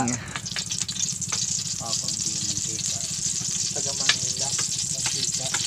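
Oil sizzles loudly in a hot pan as ingredients for ginataang susu, a river snail dish, go in, with steady frying hiss throughout and a voice speaking over it.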